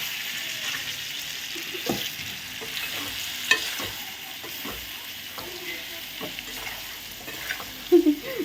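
Peanuts fry in a pan with spiced oil, giving a continuous gentle sizzle as a spoon stirs them with intermittent scraping clinks and a few sharper knocks near the end.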